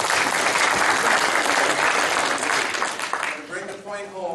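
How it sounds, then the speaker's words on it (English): Audience applause at an astronomy club meeting, a dense, steady burst of clapping from a crowd that holds for several seconds, then thins out as a voice begins talking near the end. "yes, please clap."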